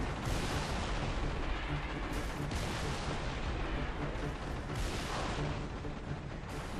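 Heavy Wraith cannon blasts in Halo 3 on the Tsavo Highway bridge, dense booming explosions and rumbling that fill the scene continuously at a loud, saturated level with periodic heavier bursts.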